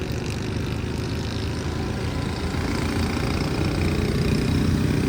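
Auto rickshaw engine idling on a Karachi street, a steady low, throbbing mechanical drone close by with constant loudness and no speech.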